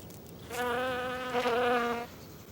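Wasps buzzing close by, a sustained, high droning hum that rises and wavers for about a second and a half before cutting off, alone against a quiet background.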